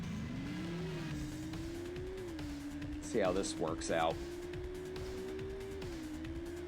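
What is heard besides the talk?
Shelby Cobra car engine and tires in Test Drive 6 video game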